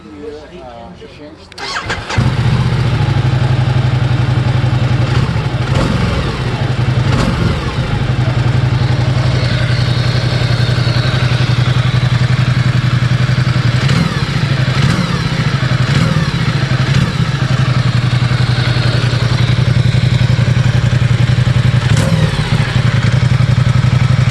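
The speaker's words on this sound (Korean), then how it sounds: "자, 시동을 한번 걸어보겠습니다." A Ducati Diavel 1260 motorcycle with a large-displacement engine cranks briefly, then fires into a loud, steady, throbbing idle that runs on close and unbroken for over twenty seconds, with a voice talking over it.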